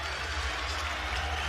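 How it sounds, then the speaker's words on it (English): A dense, steady roar fills Timmons Arena as the Furman basketball crowd cheers during a 2022-23 game against Samford, broad and unbroken throughout. "Listen to this crowd."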